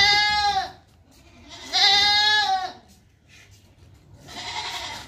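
Teddy goats, a buck and a doe offered for sale, bleat loudly and close by in three long wavering calls separated by short pauses, with no talk over them.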